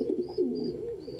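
A pet pigeon coos softly and close by in a low, throaty rolling call, one short phrase under faint indoor background, with brief higher chirps.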